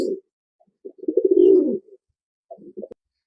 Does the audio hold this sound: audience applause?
no